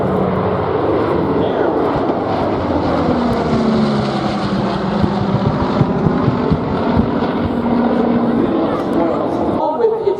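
The B-29 bomber "Doc" flies past at the Oshkosh airshow, its piston engines making a continuous loud drone mixed with wind buffeting as a person speaks briefly over it.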